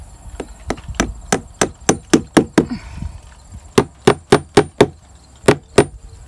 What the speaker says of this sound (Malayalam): ആണികളൊക്കെ ഇങ്ങനെ പ്രൊജക്റ്റ് ചെയ്ത് നിൽക്കുന്നുണ്ട് അതൊക്കെ ഒന്ന് അടിച്ചു കൊടുക്കാം